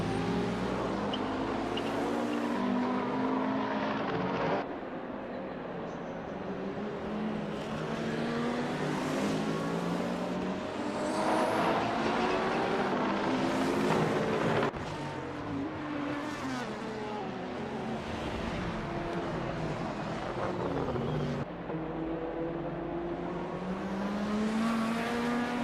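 Engine notes from GT3 and hypercar-class race cars in a sim-racing 24-hour Daytona event rise and fall in long sweeping waves as the cars weave to warm their tyres, a steady droning blend of several engines.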